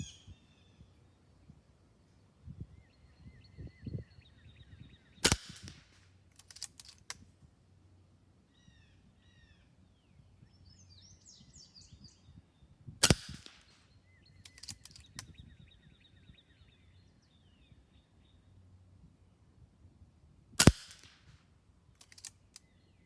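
Three sharp air rifle shots firing FX 15.89 grain pellets from a MaCavity Arms .22 at outdoor targets, each a loud isolated crack spaced several seconds apart, with birds chirping softly in the background between shots.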